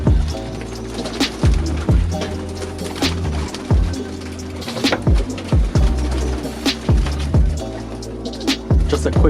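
Birmingham Roller pigeons cooing inside a loft, layered low throaty coos repeating from several birds close by, with sharp clicks and wing flutters scattered through.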